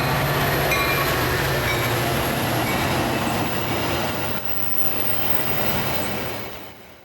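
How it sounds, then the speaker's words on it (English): Outbound Metra commuter train led by a locomotive rolling past, a loud sustained rumble of wheels on rail with faint squeal and clatter, steady then easing slightly as it goes by, no talk. "I noticed yet another outbound Metra train approaching"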